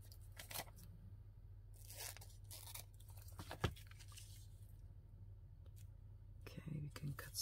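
Paper for a specimen card is snipped with scissors in short, soft cuts, each one close and quiet, with faint low room hum and quiet murmuring in the background.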